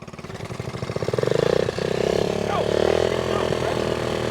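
A Honda Z50A minibike engine revs hard and climbs in pitch, a small single-cylinder buzz pushed near and loud, with a brief dip and gear change partway through while voices talk over it.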